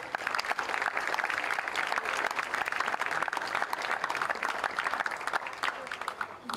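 Audience applause at a wheelchair tennis world team championship ceremony, a dense, steady clatter of many hands clapping continuously at moderate distance without a pause.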